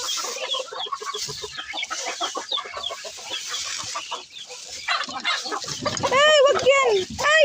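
Chickens and ducks cluck and squawk in a busy, agitated commotion at feeding time in a backyard pen, dense overlapping calls growing louder toward the end, with a person talking over them.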